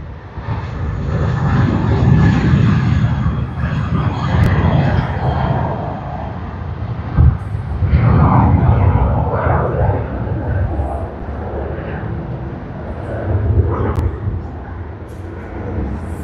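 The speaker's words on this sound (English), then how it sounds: "Lovely, lovely takeoff into the clouds." Airliner departing Sydney Airport, its broad engine roar loud and steady across the whole stretch, swelling and easing slightly as it climbs away, with faint talk now and then beneath the noise.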